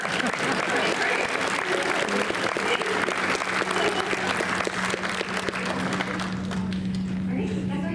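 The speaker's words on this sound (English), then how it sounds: "Round of applause for her." Convention panel audience applauding at a MegaCon Q&A, steady dense clapping throughout with a faint sustained hum underneath, fading slightly near the end.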